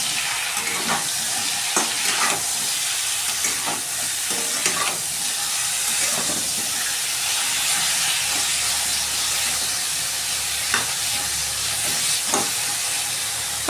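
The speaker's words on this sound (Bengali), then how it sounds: "পাঁচ মিনিট আমি নাড়িয়ে চাড়িয়ে একটুখানি ভেজে নেব" Ridge gourd pieces with turmeric and salt fry steadily in hot oil, a constant loud sizzle and hiss broken by repeated scraping stirs of the spoon, close by with no talking.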